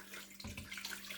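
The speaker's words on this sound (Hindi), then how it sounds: "पानी हमने डालना है।" Water poured into a cooking pot for Pakistani-style beef paya, a sudden gush that starts partway in and runs on as a close, rushing splash, quiet overall with no talk.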